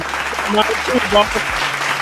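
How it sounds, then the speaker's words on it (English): A sports podcaster claps his hands a few times in quick succession, close to the mic, with his voice and background talk running underneath. "let me clap it up"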